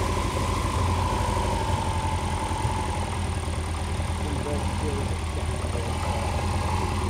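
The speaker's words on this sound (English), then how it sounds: "That pop is because you've got an air leak on your exhaust and it's drawing air in." A Lotus Elite's engine idles steadily with a low rumble, irregular pops and knocks from an exhaust air leak breaking through the drone.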